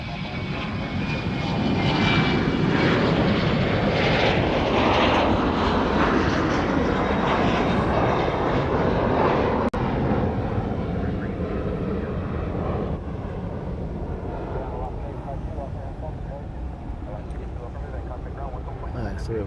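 Boeing 747 jet engines roar at Honolulu airport as one jumbo arrives and another departs, a loud sustained rumble that builds, peaks near the middle and slowly fades into a long distant whine.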